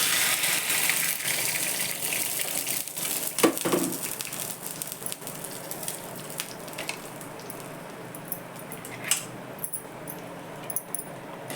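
Water poured into a pan of mustard-seed and curry-leaf tempering with coriander, a loud rushing gush and hiss up close that slowly settles into a quieter bubbling with faint clinks.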